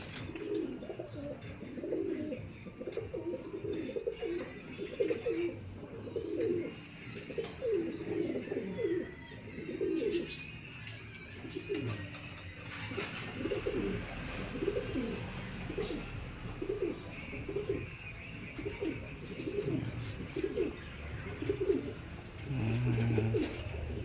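Pigeons coo in a steady, repeating rhythm of soft, low throaty calls from a flock nearby, with faint chirps and light background noise and no talking.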